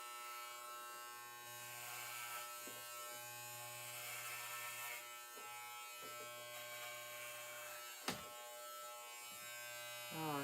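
Electric hair clippers fitted with a number 12 guard buzz steadily and close by, a continuous low hum broken by short pauses and one sharp click, with a voice talking quietly underneath.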